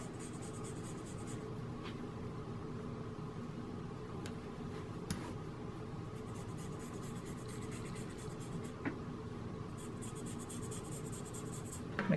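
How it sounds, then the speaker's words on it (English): Marker or chalk redraws a line on men's shirt fabric during a sewing alteration, making a faint scratchy scribbling over a steady low background hum. "now, I'm gonna redraw my little line"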